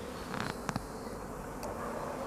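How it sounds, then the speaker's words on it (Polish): A single honeybee heavily infested with varroa mites flies weakly near a hive, a faint, thin buzz in quiet outdoor air with a few brief louder flickers. "ona mi słabo lata ta pszczoła bardzo mocno pokąsana przez warozę"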